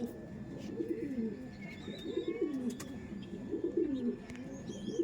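Male pigeons at a home loft in Behala give repeated low, throaty coos in a regular rhythm, close and fairly clear against a soft background hiss.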